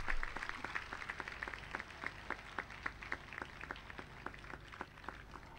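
An audience at a religious gathering in Sirsa claps together in a fast, even rhythm, sustained for several seconds with a slightly distant, roomy quality and no voices over it.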